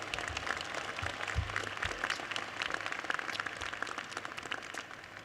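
Audience applause at the New York City College of Technology 85th commencement ceremony: a broad, continuous wash of many hands clapping in a large hall, fairly distant and even, with low thumps from the room beneath.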